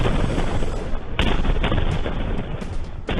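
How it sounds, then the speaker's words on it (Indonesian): A series of explosions in Al-Deir, Basrah province, rolls on as a dense rumble with several sharper bursts at irregular intervals, loud and continuous with no voices. "Serangkaian ledakan terdengar di kawasan Al-Deir, Provinsi Basrah."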